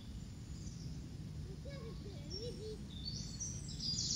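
Birds sing in the open air beside a flowing river, with clear warbling phrases in the middle and fainter chirps higher up, over a steady rushing water noise.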